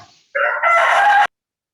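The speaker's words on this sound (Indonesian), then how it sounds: "Itu yang suaranya ayam bekokok itu mati kenapa weh?" A rooster crows once, loud and close, a single drawn-out call of about one second, heard during an online vocational school lesson.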